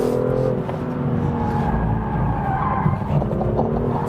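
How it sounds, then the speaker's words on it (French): A BMW M2 CS with its inline six-cylinder engine, driven hard, with a loud, steady engine drone and layered tire and road roar throughout, close and continuous with no talking. "Le moteur, on l'entend, le 6 cylindres en ligne là."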